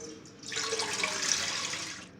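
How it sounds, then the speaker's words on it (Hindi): A steady rush of water pouring into a pan, starting abruptly and continuing evenly for about two seconds. "एक मैंने पैन ले लिया है, अब इसके अंदर पानी डालेंगे।"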